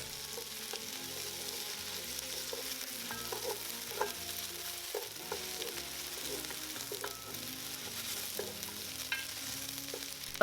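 Star anise and tomato paste sizzling in a pot of beef short rib stew, a steady frying crackle punctuated by the scrape and clack of a spatula stirring at a regular pace.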